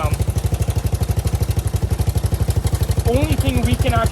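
A Kawasaki KLT250 engine runs close by with a steady, rapid pulsing beat, held high as if at the rev limiter, with a voice talking over it near the end.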